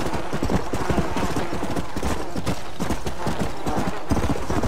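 Horse hooves gallop in Red Dead Redemption: Undead Nightmare, a rapid, loud, continuous clatter of hoofbeats up close, with a brief whinny.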